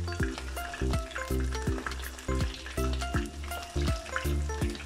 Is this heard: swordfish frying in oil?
yes